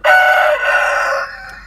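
A broody hen gives a single loud, drawn-out squawking call, close by, lasting under two seconds and then trailing off.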